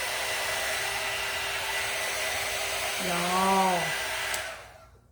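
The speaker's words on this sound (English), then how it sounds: "So I'm going to dry this off real quick," A hair dryer blows steadily on twine, a constant close whir with a voice briefly speaking over it before it switches off and winds down at the end.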